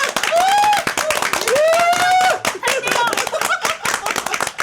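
Dense, steady clapping from a crowd greeting the Constitutional Court's unanimous ruling removing President Yoon Suk-yeol from office, running the whole length under loud, overlapping voices.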